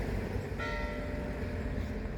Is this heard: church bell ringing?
yes